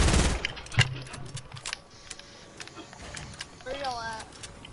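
Gunfire in a video game cracks out in a couple of sharp bursts near the start, then scattered quieter shots follow while a voice talks toward the end.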